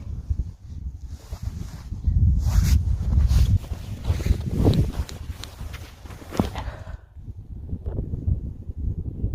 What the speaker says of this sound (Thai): หนาวแล้วค่ะพี่น้อง เพราะว่ามันลม